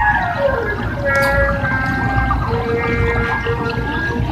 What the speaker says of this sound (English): a nice relaxing waterfall, great filtration system here